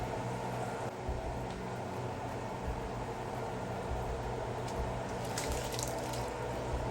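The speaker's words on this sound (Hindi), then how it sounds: "ये पानी उबल गया है" A pot of water comes to a boil for rice, giving a steady, dense bubbling hiss that fills the whole stretch without pause or talk.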